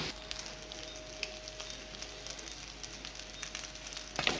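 Vegetable fried rice with soya sauce being stirred in a pan, a steady soft sizzle and frying crackle running throughout at low level, with a faint scrape near the end.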